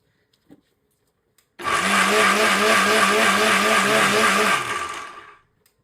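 An electric mixer grinder whirs loudly for about three seconds with a pulsing, churning drone, then winds down to silence.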